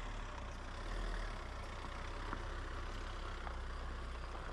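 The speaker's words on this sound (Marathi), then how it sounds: "गाडी घेऊन येते आता किल्ल्याच्या आत" A car drives into a seaside fort lined with mango orchards, its engine a steady low rumble heard at moderate distance, continuous and even throughout with a slight swell near the start.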